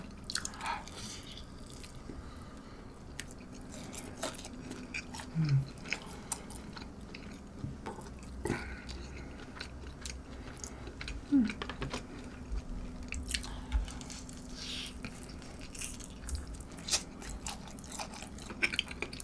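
Close, crisp crunching and soft chewing of McDonald's McWing chicken wings, served cold but still crispy, during an eating show; bites come intermittently over a quiet background with no talking.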